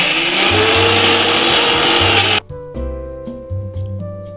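An electric mixer grinder whirs loudly as it grinds a dry mix of almonds, pistachios, sugar, milk powder, cardamom, turmeric and saffron, then stops and a lower motor hum follows in pulses.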